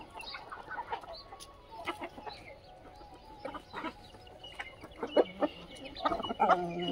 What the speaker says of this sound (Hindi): ये असील मुर्गी है, ये मात्र एक महीना में 12-11 बार अंडा देती है